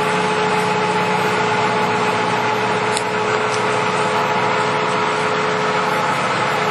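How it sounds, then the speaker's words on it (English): American heavy-duty 21.5 by 36 inch lathe running, its headstock and 20-horsepower main drive motor giving a smooth, steady, loud mechanical hum with a constant tone and no pauses. "I want you to listen to the fact that the headstock sounds so quiet and smooth"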